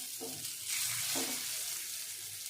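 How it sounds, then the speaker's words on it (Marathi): Colocasia leaf rolls (aluvadi) shallow frying in a little oil, giving a steady broadband sizzle with faint clinks or stirring taps near the start and middle. "थोडंसंच तेल टाकलेलं आहे आणि शालो फ्राय करून घेऊया"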